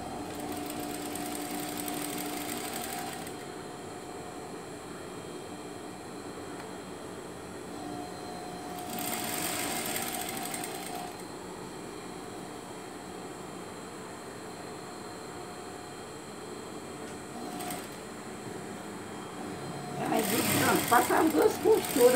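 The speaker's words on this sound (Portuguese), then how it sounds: "Passar duas costuras para ficar três, vai esticando." A sewing machine stitches elastic onto a homemade Curupira costume, its steady whirring hum running throughout, with short louder bursts of machine activity and someone talking over it.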